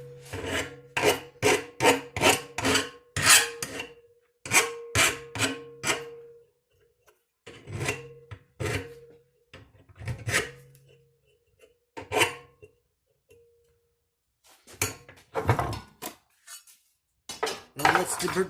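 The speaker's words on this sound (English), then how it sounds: "let's deburr it so I don't accidentally cut myself." A file deburrs the freshly cut end of a ramrod, giving bursts of sharp, raspy scraping strokes in quick rhythmic runs separated by short pauses, close and crisp with nobody talking.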